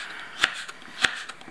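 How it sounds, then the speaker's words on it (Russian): Two crisp knife cuts through a radish for a quick, light summer salad, about half a second apart, close and fairly quiet with nothing else around them. "Начинаем ее нарезать."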